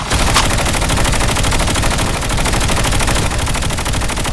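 Rapid automatic gunfire in a shooter video game scrim, a loud continuous stream of close shots with no pause.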